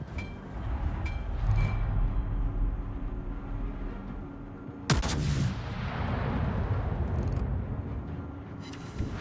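Warship guns fire in the World of Warships naval battle game: one loud, sharp boom cracks out midway and trails into a rumble, over a steady background drone of engine and sea noise.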